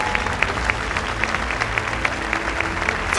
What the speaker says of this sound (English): Somebody clap your hands and praise the Lord.